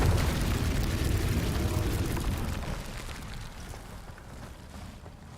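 A Confringo blasting spell goes off in Hogwarts Legacy: a loud, sustained fiery explosion with a deep rumbling roar that slowly tapers over several seconds.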